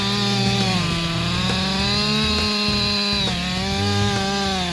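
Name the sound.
forestry chainsaw sawing a tree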